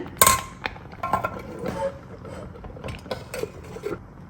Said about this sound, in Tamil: குக்கர் க்ளோஸ் பண்ணியாச்சு, விசிலும் போட்டாச்சு.